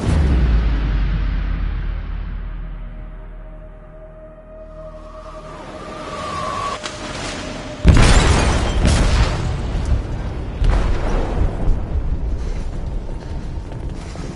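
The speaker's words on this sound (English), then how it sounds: "They detonated an explosive in the hold." Explosion detonated in a ship's hold in a PS4 game, a low rumble swelling to a sudden loud blast followed by ongoing crashing and debris noise.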